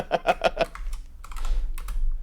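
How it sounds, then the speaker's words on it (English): Quick clatter of typing on a computer keyboard: four sharp keystrokes close together, then a softer, denser run of key presses over a low background hum. "Yes, I'm typing it."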